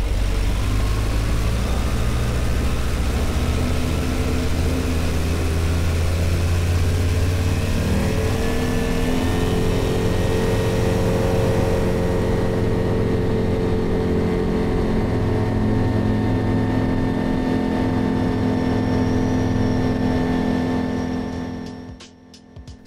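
Light aircraft fitted with a thin E-prop propeller roaring through its takeoff run, a loud sustained engine and propeller drone whose pitch climbs as power builds, fading near the end.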